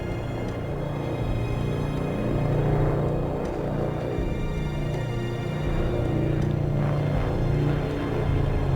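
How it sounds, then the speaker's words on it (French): A Nord 2501 Noratlas transport aircraft with Bristol Hercules radial engines runs at an air show, a loud, steady, throbbing piston-engine drone that holds throughout with little change. "Un avion avec un son magnifique. Le son vient de moteurs anglais."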